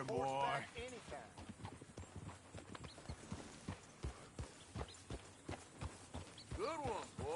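A horse in the video game Red Dead Redemption 2 clip-clops at a trot, with a steady run of hoof beats close by that breaks through frequent talking and game voices.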